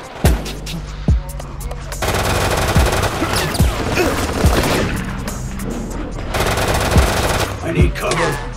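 Gunfire in an action chase with heists: sharp single shots followed by long, loud rattling machine-gun bursts, broken by short pauses, with occasional shouts underneath.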